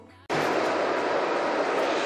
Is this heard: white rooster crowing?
no